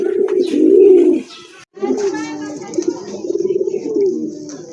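Domestic pigeons at a market stall for pet pigeons, including red Rajgolla pigeons, coo in low throaty bursts close by, a long rolling coo followed by shorter repeated calls.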